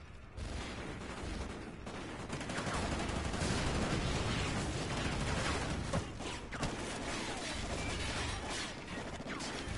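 Rapid gunfire from the Call of Duty Ghosts video game, a dense, continuous barrage of automatic shots and mechanical clatter filling the whole stretch at steady loudness.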